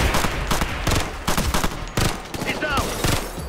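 Gunfire in Ghost Recon Future Soldier during a firefight, loud sharp shots and short bursts at an uneven rhythm over a busy battle background.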